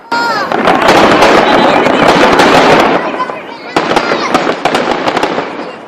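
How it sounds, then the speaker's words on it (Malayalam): Fireworks at an Eid celebration in Buraidah, Saudi Arabia: a dense, continuous barrage of loud crackling bursts and pops, briefly thinning before another rapid volley, with voices faintly mixed in. "വർണ്ണാഭമായ വെടിക്കെട്ടോടെയാണ് ആഘോഷ പരിപാടികൾക്ക് സമാപനമായത്"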